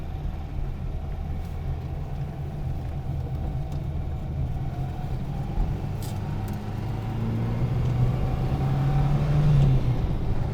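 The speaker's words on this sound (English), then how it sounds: "my impression of this engine is that it's quite thrashy" A Renault 5 with an old overhead-valve engine drives along, a steady, thrashy low engine drone and road rumble heard from inside the car that swells slightly toward the end, with no talk.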